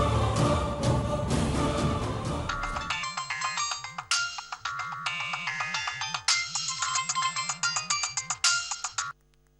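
A phone ringtone plays during an outgoing call: a bright, repeating melodic tune with bouncing, warbling notes that follows a brief burst of mixed noise, then fades at the end.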